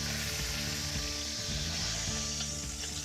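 Beef searing in a pan for a Barolo braise gives a steady, close crackling sizzle throughout a few seconds, with a low hum beneath.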